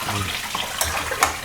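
Water runs from a tap in a home kitchen where sea fish is being prepared, a steady close splashing flow with faint voices in the background.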